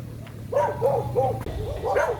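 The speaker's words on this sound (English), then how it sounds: "And the loud annoying dog." A loud dog along a rural road barks in a rapid series of about five sharp barks, close by, with low background hum beneath and no talk.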